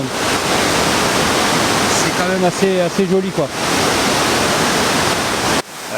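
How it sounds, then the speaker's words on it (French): Loud, steady roar of a powerful waterfall in Chiapas, Mexico, fills the whole clip, with a person speaking briefly over the rushing water. "Les cascades sont assez fortes"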